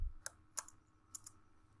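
Light keyboard typing while writing code for an ESP32 weight-scale simulation: a few sparse, crisp key clicks in two small clusters, quiet and close, with no talking.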